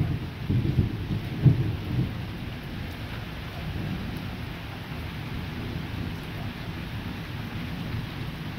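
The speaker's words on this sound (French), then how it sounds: "Bon, là on est en face le cœur de l'orage." A moderate-to-strong September thunderstorm with its core passing two to three kilometres away: steady rain patters throughout while low, rolling thunder rumbles swell near the start, distant and continuous rather than sharp cracks.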